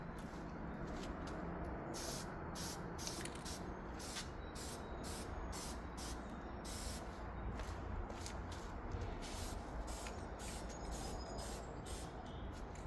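Aerosol spray can applying a second coat of paint to a guitar body in short repeated bursts, a steady close hiss with brief pauses between sprays, no talking.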